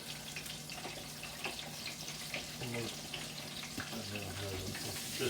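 Tap water runs steadily into a sink while raw prawns are washed, a soft continuous splash close by with faint handling sounds and some quiet speech underneath.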